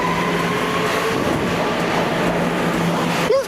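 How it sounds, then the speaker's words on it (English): A New York subway B train made of R211 cars rumbles loudly and steadily past the platform at Atlantic Avenue–Barclays Center, with a constant whine and a rising screech just at the end. "You've definitely seen the B train on here before, yeah. It's nothing special. It's just another 211."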